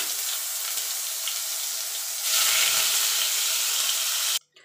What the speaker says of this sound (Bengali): বাকিগুলো ভেজে নেব।